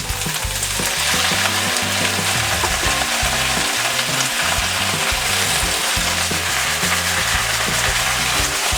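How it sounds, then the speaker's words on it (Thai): Chinese kale stir-fried in a pan with a splash of water added, giving a loud, continuous sizzle and hiss with steady scraping and stirring throughout, close up and without any talking. "ผัดให้ผักคะน้ามาเริ่มสุกนิดนึงก่อน"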